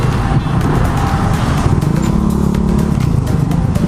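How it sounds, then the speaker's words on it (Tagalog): Dense road traffic surrounds a motorcycle on a delivery ride through congested city streets, with a constant low engine drone and passing vehicles rushing close by, loud and unbroken throughout. "Masyado talagang traffic palagi dito sa ano, ganitong oras."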